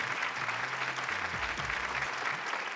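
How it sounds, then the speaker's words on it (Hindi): Studio audience on a Hindi TV game show claps loudly for the Bansal couple, a short burst of dense applause with low musical tones playing underneath. "जोरदार तालियां बंसल्स के लिए"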